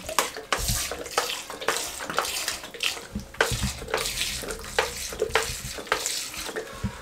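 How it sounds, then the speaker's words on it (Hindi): Raw liver is mixed and squeezed by hand with vinegar and garlic paste, giving wet squelching, sloshing sounds in irregular bursts, close and fairly loud, with no talking. "अच्छे तरीके से इनको इस तरीके से मिक्स कर देंगे, मसल देंगे इस तरीके से"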